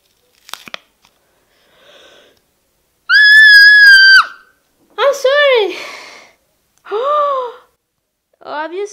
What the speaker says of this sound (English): If you do the nose strips, you know they kind of hurt, so allow me to scream if I need to